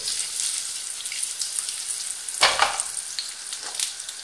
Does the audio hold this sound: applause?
no